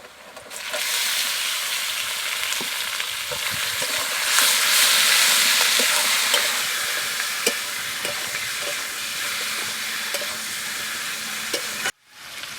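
Chicken meat goes into a pan of browned onions and bay leaf, hissing in a strong, continuous sizzle. Light stirring taps sound throughout until a sudden cut near the end.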